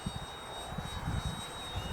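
An XFly-Models 1.2 m Glastar trainer RC plane flies outdoors in wind and rain, its steady electric motor whine holding a constant pitch over gusty wind rumble.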